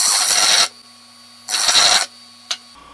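A burl and resin piece being flattened, giving two harsh, broadband scraping bursts roughly half a second each, separated by a quiet gap, then a brief sharp scrape near the end.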